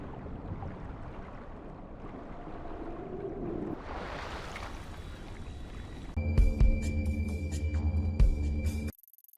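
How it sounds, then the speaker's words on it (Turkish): Eerie ambient sea sounds in the video game GTA 5: a steady watery wash with throbbing low rumble, swelling midway, then a louder tonal engine-like drone with clicks before cutting to near silence. "Ürkütücü deniz sesleri tabii ki bize eşlik ediyor."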